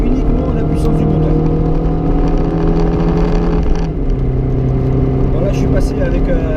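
A Mini Cooper S with the THP engine pulls steadily under acceleration, its engine drone loud and continuous from inside the cabin, with a brief dip in pitch partway through as it carries on.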